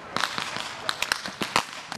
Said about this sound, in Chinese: 选手提枪快跑，迅速躲到掩蔽物后面，再伺机开枪迎战对手